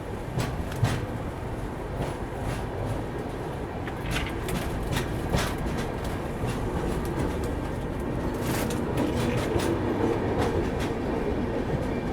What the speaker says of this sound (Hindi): अपनी ट्रेन निकल चुकी है भूसावल रेलवे स्टेशन से भी अपनी राजधानी